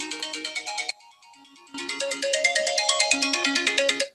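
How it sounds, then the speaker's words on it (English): A mobile phone ringtone rings in a lecture room, a loud bright electronic melody of quick repeated notes with a brief quieter pause partway through. "Sorry, that's my phone."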